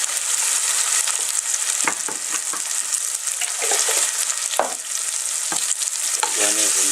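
Steak offcuts with a little fat fry in a pan as they are stirred, loud bright sizzling punctuated by several scraping strokes and clacks, close up with nobody talking.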